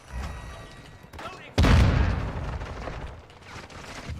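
A grid charge thrown in Modern Warfare 2 multiplayer, a sudden heavy burst rising out of quieter background noise midway, then a lingering rumble, with a voice heard early.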